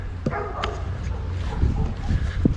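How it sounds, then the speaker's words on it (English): Several neighborhood dogs bark and yip in the distance, scattered and fairly faint over a steady outdoor background hum. "Every dog in the neighborhood is barking."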